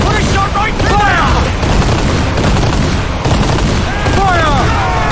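Naval cannon fire from the Assassin's Creed 4: Black Flag video game, dense and continuous booming barrage under shouted crew voices and battle din throughout.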